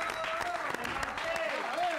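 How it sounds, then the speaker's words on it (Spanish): Steady applause fills a room as people clap for Martín Palermo, moderately distant and continuous, with voices speaking over the clapping. "Un aplauso para Martín."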